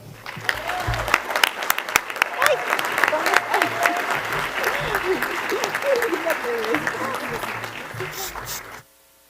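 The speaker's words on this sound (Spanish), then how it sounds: "les pido por favor que la reciban con un enorme aplauso a Mitzi Cruz" An audience at a human-trafficking forum breaks into loud, sustained applause to welcome a speaker, with cheers and whoops throughout. It holds steady for about nine seconds, then stops abruptly.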